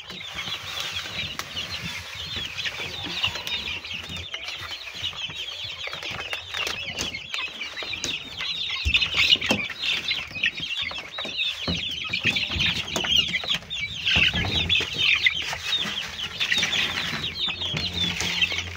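Many egg-laying chickens on a farm cluck and chatter continuously nearby, with occasional wing flapping and rustling, a busy, steady flock sound throughout.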